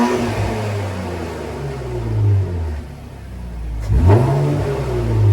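An Infiniti Q50 twin-turbo engine with BMS intakes revs twice, the pitch climbing and falling in close, loud sweeps, with a sharp whooshing turbo release at the second rev.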